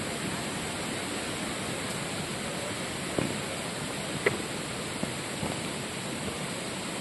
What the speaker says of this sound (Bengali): জলের আওয়াজ হচ্ছে, পাখি ডাকছে।